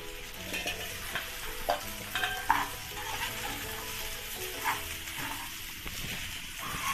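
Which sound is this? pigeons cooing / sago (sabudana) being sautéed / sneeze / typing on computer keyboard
sago (sabudana) being sautéed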